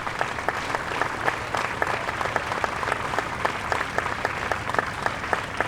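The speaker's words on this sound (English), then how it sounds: "Let's give a round of applause for that moving tribute." Steady crowd applause fills the air at an outdoor Juneteenth celebration and peace rally, a dense continuous patter of clapping with no one speaking over it.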